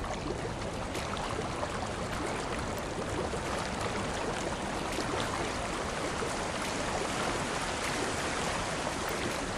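Rushing river water splashes steadily around a kayak in a whitewater virtual reality game, a dense continuous wash with faint paddle dips and no voices.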